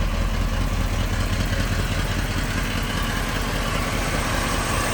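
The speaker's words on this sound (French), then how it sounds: "Et un moteur qui est très régulier. Ne vibre pas, pas de bruit suspect." A 1971 Chevrolet Corvette 454ci V8 engine idles steadily with a deep, even rumble and faint vibration, close by, with no voices.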